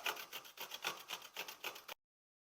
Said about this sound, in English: I need to grate my Lebanese cucumber